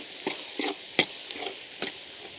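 Capsicum and egg masala sizzles in a pan while a spoon stirs it, making several soft scraping strokes at an uneven pace over a low frying hiss.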